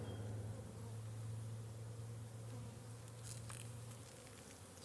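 Honey bees buzz in an open beehive during an inspection, a quiet, steady insect drone heard close by with faint rustling near the end.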